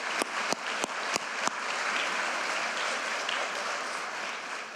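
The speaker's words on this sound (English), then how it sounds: "I heard a couple of applause out there." Applause at a university address, opening with a few sharp, separate claps and then settling into a steady, fairly distant wash of clapping from a crowd.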